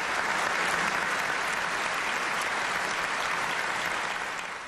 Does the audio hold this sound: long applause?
yes